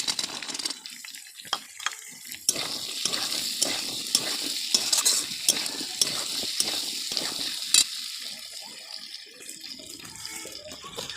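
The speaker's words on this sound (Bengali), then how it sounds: "আলুগুলো অনেকটা ভাজা ভাজা হয়ে গেছে এইবার দিয়ে দেবো মটরশুঁটিগুলো" Potatoes frying with green peas in a pan, a soft sizzle under repeated stirring and scraping strokes in an irregular rhythm, close and fairly quiet.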